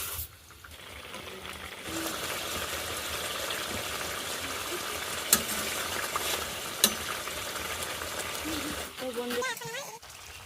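Hilsa fish curry simmering in a pot in a village kitchen, a continuous bubbling and sizzling with some stirring, two sharp clanks, and a voice talking near the end.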